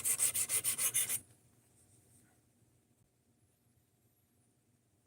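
D2 steel knife blade being sharpened with about eight quick, rhythmic rasping strokes over the first second, close and distinct, followed by near silence.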